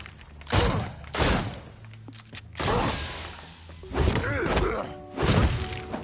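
Takedown blows land on an enemy in the Dreams video game on PS4/PS5: several loud, heavy thuds and whacks spaced about a second apart, each a sharp hit with a short ringing tail.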